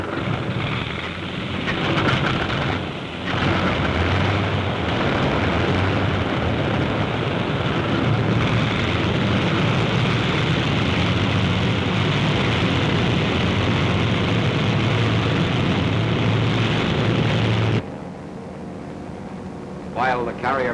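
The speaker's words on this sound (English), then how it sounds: "Aircraft leave the flight decks during extensive attacks that softened up the Central Pacific targets for" In 1944, carrier-based warplanes take off from flight decks during Central Pacific attacks, a loud, continuous engine roar lasting most of the stretch before it drops off sharply near the end. Someone narrates over it.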